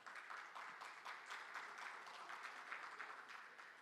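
An audience at a panel event on international agreements on goods and services applauds steadily to welcome a panelist, with dense, even clapping that holds throughout.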